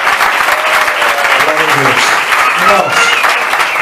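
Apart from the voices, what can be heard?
congregation applauding in church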